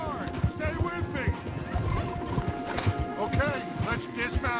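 Horses gallop hard in Red Dead Redemption 2, with steady rapid hoofbeats and occasional whinnies running under a voice, close and continuous.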